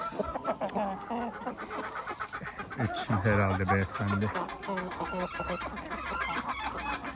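Chickens and a turkey cluck and squawk busily around someone tossing them greens, with a rooster's crow breaking in midway; someone talks briefly over the close, steady flock noise.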